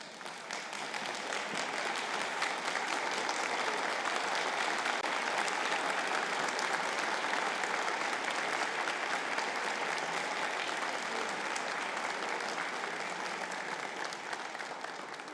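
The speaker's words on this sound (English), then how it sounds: "turn to face your supporters and show your appreciation with a round of applause" Steady, dense applause from a large audience at a graduation conferring ceremony for an engineering and technology faculty rises and holds for about fifteen seconds, with no talking over it.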